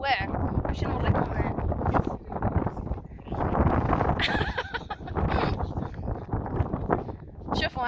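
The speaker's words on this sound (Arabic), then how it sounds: "واحد الريح هنايا واعر باش نوريكم" Strong wind gusts roar across the open outdoors in a loud, continuous, buffeting rumble that swells and dips throughout, with a voice faintly mixed in.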